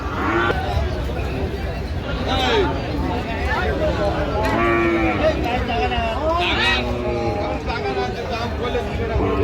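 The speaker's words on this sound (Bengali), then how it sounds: "বেশ সুন্দর গরুগুলো সংগ্রহ করছে মাজারুল ভাই।" Cattle moo and low repeatedly amid a busy crowd at a cattle market, with voices babbling throughout at close range.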